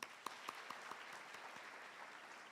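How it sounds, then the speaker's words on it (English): Audience applause at a University of Nairobi graduation ceremony, a faint, distant steady patter of clapping with a few sharper claps near the start. "Shall we applaud again?"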